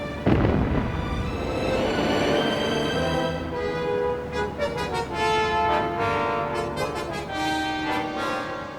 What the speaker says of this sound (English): Once this had been done, the mine was destroyed by rifle fire.